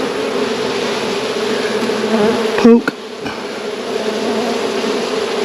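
Swarm of honey bees humming loudly and continuously at an opened hive during a check for queen cells, dense close buzzing with a brief clatter and one short spoken word partway through.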